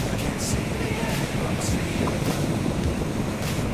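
Ocean surf rolls onto a beach in Pondicherry with steady wind buffeting the microphone, a continuous broad wash of waves that stays loud and close throughout.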